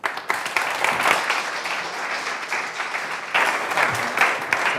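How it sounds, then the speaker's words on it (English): A conference audience gives sustained, dense applause at the close of a talk at a storytelling masterclass, steady and fairly loud for nearly five seconds. "Can we give another round of applause to Mark"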